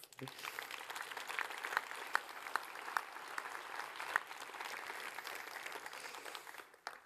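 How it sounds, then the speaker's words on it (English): Audience applause at the closing plenary of the Philea Forum 2022, a dense, steady wash of many hands clapping that holds for about seven seconds before tapering off at the end. "So please, a big round of applause for yourself."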